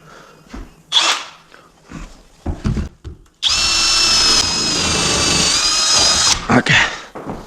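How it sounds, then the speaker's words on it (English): A power drill boring into an old house wall for a light switch, starting after some handling knocks and clatter, then one loud sustained whine for about three seconds, easing briefly before stopping, followed by a few more clunks. "Let's drill this switch here,"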